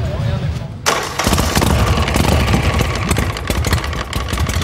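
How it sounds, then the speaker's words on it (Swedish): A motorcycle priced at 470,000 kronor starts up suddenly and runs with a loud, rough engine rumble that fills the rest of the moment, close up and steady. "Det är att jag ska sätta mig på motorcykeln"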